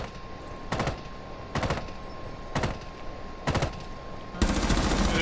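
Gunfire from the Rainbow Six Siege video game: four short automatic bursts spaced about a second apart, then a louder sustained burst at the end, alone with no talk.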